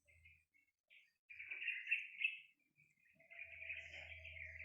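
A bird sings in faint, bright chirping phrases, some short and some drawn out, over a low background hum with no voices.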